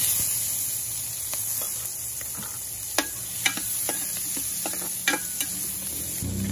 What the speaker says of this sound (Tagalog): Dito na rin tayo mag-gisa. Lagyan natin itong onion.